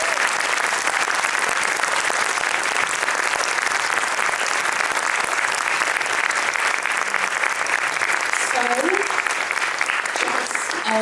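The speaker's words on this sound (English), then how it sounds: "Can we have a round of applause?" Sustained applause from a seated audience at a book event conversation, dense and steady clapping throughout with a few faint voices rising near the end.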